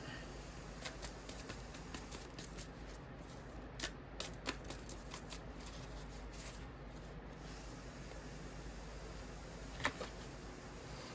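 Tarot cards being handled and shuffled, a soft continuous papery rubbing with scattered light flicks and taps, one sharper snap near the end; close and quiet, with no talk.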